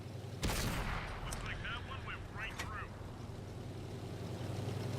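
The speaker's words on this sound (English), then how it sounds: "So artillery is fired and missed." In a tank video game, a heavy gun blast booms once, followed by rumbling echoes and a few sharp metallic whines. Engine rumble continues under the whole passage.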